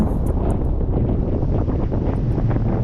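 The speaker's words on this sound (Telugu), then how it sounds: "గాలి సౌండ్ తప్ప ఇంకేమీ మనకి వినిపించదు" Wind rushes loudly over the microphone during a paragliding flight at Bir Billing in India, a constant, heavy buffeting roar with no voices.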